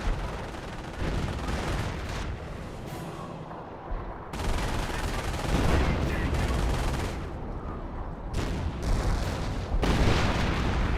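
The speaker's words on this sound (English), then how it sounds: "Landmine has been detonated." A landmine detonates in a Company of Heroes battle, heavy booming blasts and dense gunfire rolling through a loud, continuous battlefield din with several sharp explosive onsets and a game narrator's voice.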